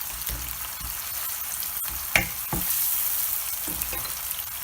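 Onion, garlic and ginger paste with tomato stir and sizzle in a hot pan on high heat for a tilapia fish curry, a steady frying hiss broken by occasional spoon scrapes and knocks, with no talk.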